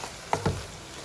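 Noodle sauce of sugar, oyster sauce, dark soy and chili sauce being stirred in a pan, a few brief scraping strokes close by over a soft background sizzle.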